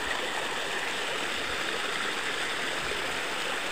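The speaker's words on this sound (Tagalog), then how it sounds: "Yun yung sapa." A stream flows near a cave entrance by a waterfall, producing a continuous rushing, gurgling wash of water that stays steady and fairly loud, with no voices.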